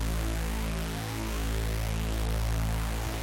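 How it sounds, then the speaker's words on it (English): Bass with heavy distortion blended in parallel with a dry channel, treated with a phaser and auto pan, giving a thick, constant buzzing drone with a slow whooshing movement, loud and continuous with no voice. "And now that woo phase effect is in there"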